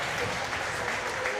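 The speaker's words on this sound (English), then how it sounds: "And now we hear the Scottish crowd." A Scottish crowd at the 2022 Commonwealth Fencing Championships applauds in a steady, dense wash of clapping that fills the whole stretch without pause.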